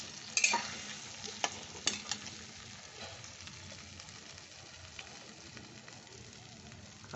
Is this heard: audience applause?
no